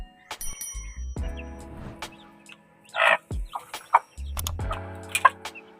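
A mother hen clucks in short, separated bursts near her newly hatched chicks, with thin high cheeps scattered between the calls in an otherwise quiet space.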